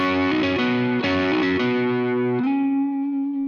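A distorted electric guitar plays a short lead lick, picked notes, then lets a final chord ring out and sustain to the end.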